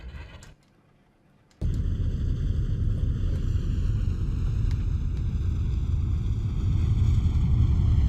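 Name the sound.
propeller aircraft engine in video game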